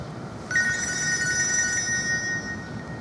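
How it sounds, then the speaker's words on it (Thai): A telephone rings with a bright electronic trilling tone that starts abruptly and carries on steadily, fairly loud, with no talking over it. "ขออนุญาตรับโทรศัพท์สักครู่ครับ"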